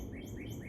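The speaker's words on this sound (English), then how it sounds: "look at that cardinal over there" A chubby male cardinal chirps outdoors in short, repeated high rising notes over a steady low background rumble, fairly faint and a little distant.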